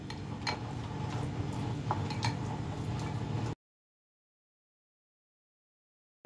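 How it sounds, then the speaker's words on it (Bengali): Spices being mixed for a whole BBQ chicken in a bowl, a spoon clinking and scraping against the dish in soft, irregular taps, then a sudden cut to silence. "এখন আমি মশলাগুলো ভালো করে মিক্স করে নিচ্ছি।"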